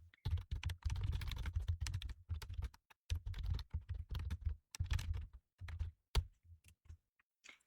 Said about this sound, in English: let me type out a piece of code